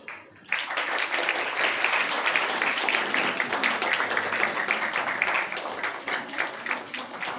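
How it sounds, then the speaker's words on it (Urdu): After a brief quiet moment, an audience at an award ceremony bursts into loud, sustained applause that stays full for several seconds before easing slightly. "زوردار تالیوں سے آپ جو ہے اپنی عقیدتوں کا اظہار کریں۔"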